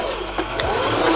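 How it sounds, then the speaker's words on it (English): A sewing machine runs continuously as it stitches fabric up toward an elastic band for a tutu, a steady close mechanical whir with a couple of brief clicks and no voices. "I'm just gonna sew all the way up to about a quarter inch from my elastic."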